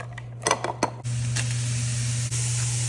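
Onions hitting hot bacon grease in a pan: a few clinks of cookware, then a sudden loud, steady sizzle that holds to the end.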